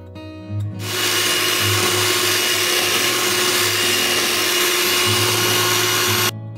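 An electric hand mixer whirs steadily through egg and vanilla extract for brookie cookie dough, starting abruptly, holding a constant loud buzzing drone for several seconds, then cutting off.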